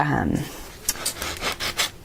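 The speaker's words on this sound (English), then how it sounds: "just using a little sanding block" Several short scratchy rubbing strokes of a sanding block on a patina bracelet, close and fairly quiet, coming in quick bursts after a brief bit of speech.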